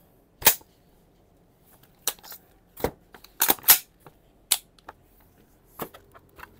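Close single shots from a G&G MGCR 556 gas blowback airsoft rifle, about eight sharp cracks fired at irregular intervals with quiet gaps between them.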